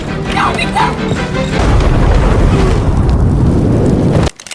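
A bomb blast in a film about an exploding nuclear power plant: a loud, broad, sustained roar of destruction rumbles for about four seconds, then cuts off abruptly into brief scattered debris.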